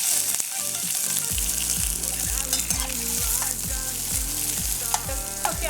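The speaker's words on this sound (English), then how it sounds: "So I have my oil, some coconut oil I put to heat up there, and I'm going to be adding my chopped onions and pepper pimentos." Chopped onions and pepper pimentos fry in hot coconut oil for a Trinidad curry goat, a steady sizzle and crackle running throughout beneath rhythmic background music with a strong, stepping bass line.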